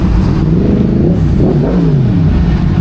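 Several motorcycle engines, including Harleys, a Yamaha and an African Twin, rumble and rev nearby at a gas station, low throaty revs rising and falling steadily throughout.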